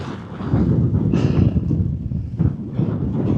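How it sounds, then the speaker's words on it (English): Steady low rumbling wind buffeting the microphone outside a tent in cold weather, with gusty swells throughout and no voices. "It's still windy and cold."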